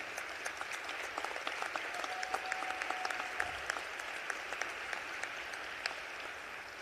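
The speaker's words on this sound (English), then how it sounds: "Please acknowledge, respect, and thank the members of the Illinois House Black Caucus. Let's give them a round of applause." An assembly chamber applauds members of the Illinois House Black Caucus at a new General Assembly session, steady moderately distant clapping with a faint murmur beneath.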